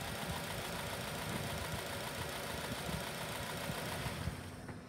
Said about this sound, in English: You can hear the engine labor, and our patterns have changed.